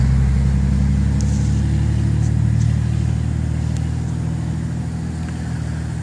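A big, loud truck engine rumbles steadily at close range for several seconds. The low, throbbing drone holds at an even level with no talk over it.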